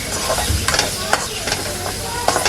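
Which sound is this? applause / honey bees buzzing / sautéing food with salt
sautéing food with salt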